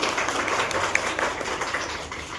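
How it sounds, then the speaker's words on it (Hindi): An audience claps for children who have just sung at an academy event, a lively patter of many hands with a few sharper individual claps standing out. "एक बार जोरदार तालियां।"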